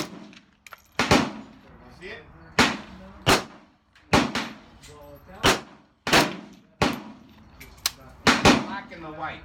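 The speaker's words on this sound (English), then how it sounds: "I continued to shoot at some targets and see where I was hitting" Rifle shots fired at targets while zeroing a Trinity Force 1-4x28 optic, around fifty yards out. Seven or eight sharp, loud reports ring out at irregular intervals of one to two seconds, each with a short ringing tail.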